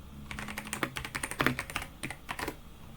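Port security commands being typed on a computer keyboard, a brisk cluster of close key clicks over about three seconds, a few keystrokes landing harder than the rest, with no voices.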